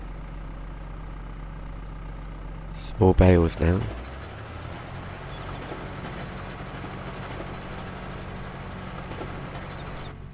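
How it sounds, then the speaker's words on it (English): A farm vehicle engine idles in a steady low rumble throughout, with a short burst of louder clunking and rattling partway in; someone speaks briefly over the running engine. "for some reason you got to turn the engine on"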